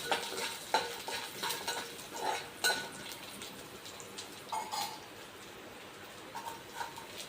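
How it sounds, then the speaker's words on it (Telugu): Mustard seeds, chana dal, urad dal and peanuts fry in oil in a pan for rice rava upma, a soft sizzle with intermittent scraping stirs and light popping. "ఇప్పుడు అదే ప్యాన్లో కొంచెం ఆయిల్ వేసి వేడయ్యాక ఆవాలు, పచ్చిశనగపప్పు, మినపప్పు, పల్లీలు వేసుకుని వేయించుకోవాలండి"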